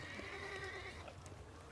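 A horse neighs in a long, high whinny over a busy game soundscape, followed by fainter snorting and clatter.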